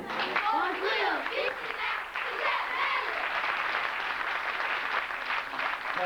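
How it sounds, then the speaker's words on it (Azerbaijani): An audience applauds steadily and loudly at a school's 30th anniversary jubilee celebration in Azerbaijan, the clapping sustained for several seconds with voices mixed in. "Yaxşı alqışlar."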